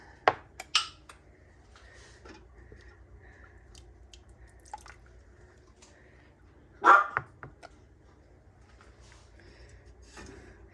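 A few sharp dog barks at a cat ring out at a distance, two early and a louder one later, separated by long stretches of quiet.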